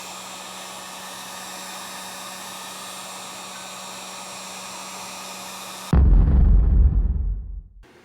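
A heat blower aimed at a nitro RC car engine gives a steady whirring blast of air for several seconds, then cuts to a louder, close low rumble and rushing noise that fades out, with no voices present.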